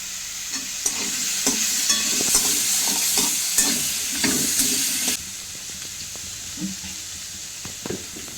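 Sliced onion with a pinch of salt sizzling in a pan, a loud steady hiss broken by repeated stirring scrapes, the sizzle cutting off abruptly partway through before quieter scraping continues.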